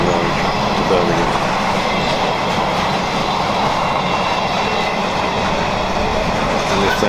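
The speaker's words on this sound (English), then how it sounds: "Here's a northbound freight liner headed by 66024." A northbound Freightliner freight train hauled by Class 66 locomotive 66024 rumbles past at a railway junction near Leamington, a loud, continuous roar of wagons with faint clickety-clack throughout.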